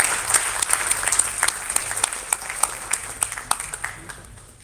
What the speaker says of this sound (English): Please give a very big round of applause once again.